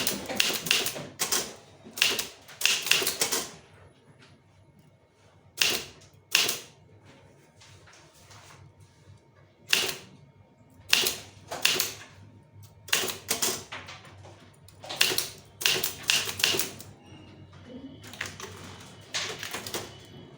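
Typewriter keys clack in quick bursts of strikes separated by short pauses, close and crisp, while someone types a Tamil demi-official letter.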